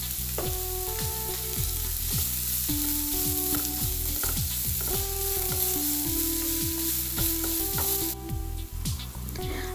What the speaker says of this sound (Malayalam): എന്നിട്ട് നമുക്ക് നന്നായിട്ടൊന്ന് വഴറ്റിയെടുക്കാം